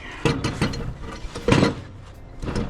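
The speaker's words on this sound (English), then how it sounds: "Alright, now I'm going to move her down to the edge clamps, which will hold this very solidly for me." Edge clamps on a Frontier OS18 portable sawmill being slid and locked down against a clear ash log in bitter cold, giving several close, sharp metallic ratcheting clunks spaced unevenly, with no talk.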